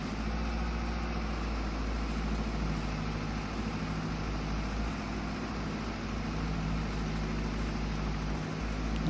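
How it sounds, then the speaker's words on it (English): A farm tractor pulling a tedder across a grass field in Farming Simulator 22 drones with a steady low engine hum that holds constant throughout, with no talk. "now we're just going to go over the field with our tedder here and turn our grass into hay"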